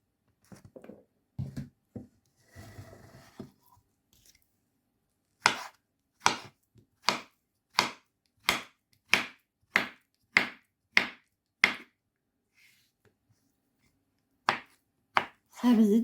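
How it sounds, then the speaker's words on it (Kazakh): A knife chops carrots on a cutting board in a steady run of about a dozen crisp, evenly spaced strokes. A few softer scattered taps come first and two more strokes follow after a pause, with nobody talking. "Қазір сәбізді тураймыз."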